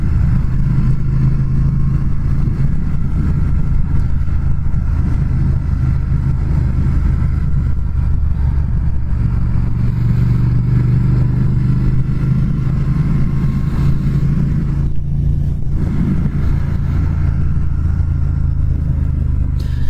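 A 2019 Triumph Speed Twin motorcycle's engine runs steadily throughout a ride, a constant low rumble with some road and wind noise and no talking.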